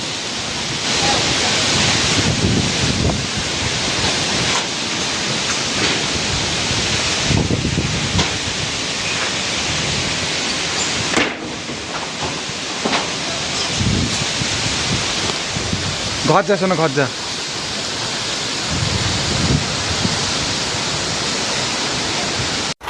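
Gusting wind of a sudden short storm roars loudly in broad surging waves, with brief voices heard over the noise.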